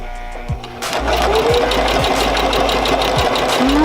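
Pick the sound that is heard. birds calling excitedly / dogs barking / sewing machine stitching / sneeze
sewing machine stitching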